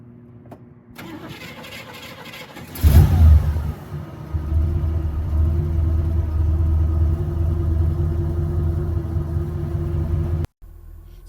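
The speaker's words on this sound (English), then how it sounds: "I can hear the rumble of the V8 through the dual exhaust" A 1967 Buick Skylark V8 with dual exhaust cranks and catches with a sharp surge, then settles into a steady, deep, close rumble at idle before cutting off abruptly.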